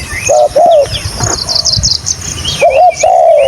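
Wild birds calling in open country: repeated clear whistled calls come in short phrases, with softer chirps, a faint cooing and some rustling between them, fairly close, with no voices.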